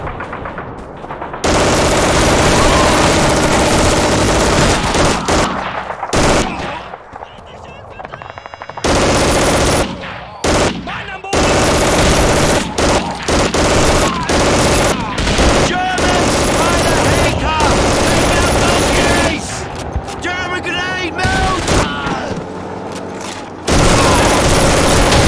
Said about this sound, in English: Sergeant Davis, get on the German machine gun!